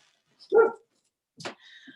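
A dog barks twice indoors during a pastel painting session, one sharp bark followed about a second later by a shorter yelp with a faint whine trailing after, fairly close and loud against an otherwise quiet room.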